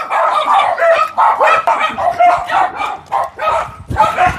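A dog barks and yips repeatedly in quick bursts, loud and close, with brief whimpering between barks.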